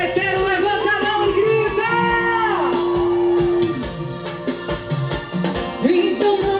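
A carnival party crowd yells and whoops together in a loud, continuous roar, with a sustained shout held partway through and music-like tones running underneath.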